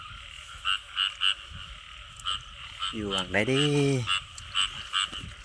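A night chorus of croaking frogs heard during a frog hunt: short repeated calls pulse steadily, and a voice briefly speaks over them near the middle.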